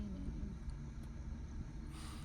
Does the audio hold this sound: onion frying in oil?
no